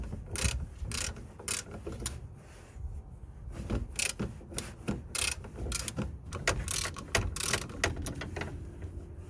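A ratchet undoes a nut on the rear brake of a Vauxhall Zafira B, a run of close, sharp clicking bursts in uneven rhythm with metallic knocks between strokes.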